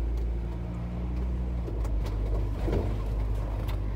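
Steady low engine hum and road rumble from a car gathering speed during a driving lesson, continuous and moderately loud with no voices.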